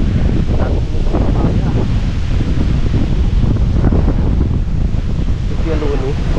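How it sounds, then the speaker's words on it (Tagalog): Outdoor breeze rushing across the microphone in broad, steady gusts with rustling in the background, near and fairly loud throughout. "Ang sarap ng simoy ng hangin."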